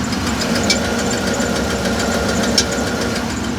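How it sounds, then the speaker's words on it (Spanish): An engine with a misfire on cylinders 1 and 8 idles, recorded at the intake, with a steady rumble broken by a faint, irregular knock from an intake valve. "Que ese golpe es de válvula"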